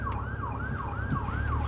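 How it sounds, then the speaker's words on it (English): An ambulance siren wails in a steady rising-and-falling cycle, heard from a car riding through town, continuous and fairly clear over low road rumble. "Oh, there's the ambulance over there."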